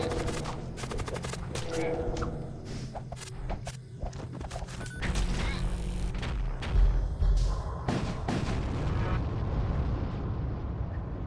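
Heavy artillery fire in the video game Void War: dense, loud booms and sharp blasts pound steadily throughout, with rumbling impacts layered over continuous battle noise and no talking.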